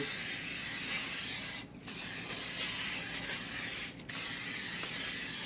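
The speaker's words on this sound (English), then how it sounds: "I'm just gonna spray my pan." A steady, loud aerosol hiss of canola oil cooking spray coating a pan, with two brief pauses between long continuous bursts, close to the microphone.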